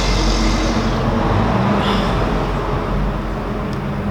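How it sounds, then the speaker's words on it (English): Big trucks pass close by on a road, making a loud, steady roar of engines and tyres that fills the whole stretch. "a bunch of these big trucks are passing by, so they're making a lot of noise"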